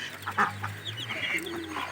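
Pigeons close by at home, a flock grown large with many new chicks, make soft clucking, cooing calls in short bursts over a low steady hum, near and moderately loud.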